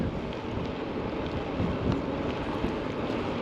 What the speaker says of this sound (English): I hope you don't hear any of that wind. It's really windy today.